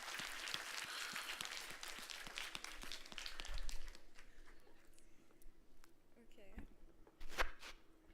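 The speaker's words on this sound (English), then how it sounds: "A huge round of applause for Nishka." Brief applause from a crowd at a school session, fairly faint, fades after a few seconds into quiet room noise with scattered thumps and a few soft sounds.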